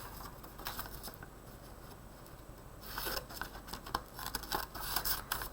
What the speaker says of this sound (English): I'll go through and cut all this out, get this nice and squared away.